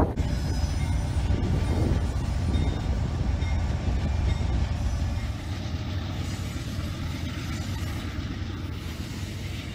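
An eastbound Amtrak Southwest Chief passenger train rolls steadily past, a continuous loud rumble of wheels on rails with faint squealing, sustained for several seconds and easing slightly toward the end.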